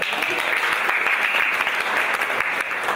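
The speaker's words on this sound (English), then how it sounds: "Give me a clap." An audience at a quiz night forum in Mombasa breaks into loud, steady clapping, a dense burst of many hands filling the short moment without a break.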